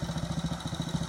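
A 1940 Royal Enfield Model C motorcycle engine runs steadily nearby, a fast, even thumping pulse with mechanical clatter and no voices.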